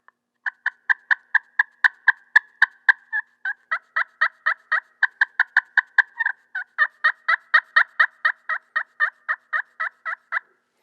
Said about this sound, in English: Yelp sounds really good.